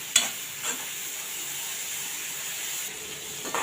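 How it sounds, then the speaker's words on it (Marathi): Chopped onion sautéing in hot oil for a cluster bean curry, with a steady soft sizzle and a few brief stirring scrapes near the start and end; no talking. "आता कांदा चांगला मऊ होईपर्यंत आपण परतून घेऊया तेलावर"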